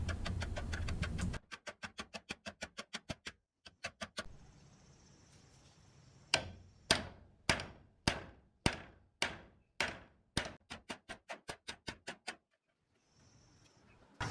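A hammer repeatedly taps a worn bushing out of a Chamberlain garage door opener, with runs of sharp metallic strikes, some quick and light, others slower and harder, loud and close with short pauses.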